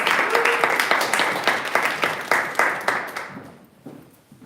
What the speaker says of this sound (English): Please give lots and lots of applause for Edgar Kunz.